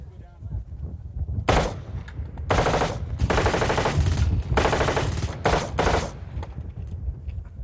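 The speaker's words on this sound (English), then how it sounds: "This is an M16 with the 100-round magazine." An M16 rifle with a 100-round magazine fires loud automatic bursts, several sustained runs close up, with short pauses between them.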